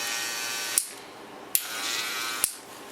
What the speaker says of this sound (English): Blast it with my clipper cleaner. Turn it on a little bit,